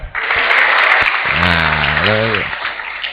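Applause from an audience at an Islamic religious lecture in Banyuwanги, a loud burst of clapping with a voice speaking over it partway through.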